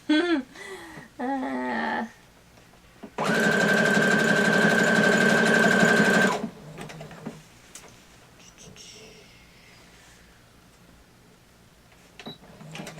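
Sewing machine stitching appliqué for a cosplay costume, a steady loud mechanical whir running about three seconds alone, with brief talk before and after.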